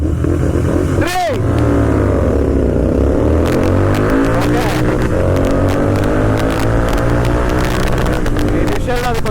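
A Royal Enfield GT650 motorcycle engine revs hard during riding at top-speed testing, loud and close, with rising and falling pitch sweeps as the rider shifts through gears, under wind noise.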